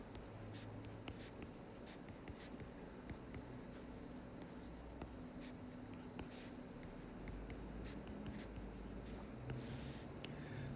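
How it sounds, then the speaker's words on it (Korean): Pencil writing by hand on paper as prime factorization results are set out in vertical columns, a steady quiet scratching that runs throughout with light taps and a few breaths. "소인수분해된 결과를 세로줄로 맞춰서 써볼게요"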